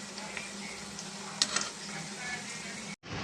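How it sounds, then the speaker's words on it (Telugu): Sweet corn vadas frying in hot oil, a steady close sizzle and crackle with a few brief louder spatters, ending in a short cut. "ఇంకో వైపు కూడా తిప్పుకుంటే మనకి ఇది కూడా కొంచెం మంచి కలర్లో వచ్చేదాకా మనం ఫ్రై చేసుకుందామండి"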